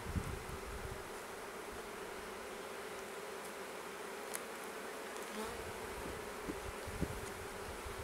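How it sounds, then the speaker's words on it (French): Honey bees buzzing on a brood frame during a spring hive inspection, a dense continuous close hum of many insects, fairly quiet and steady throughout. "les abeilles qui bougent pas"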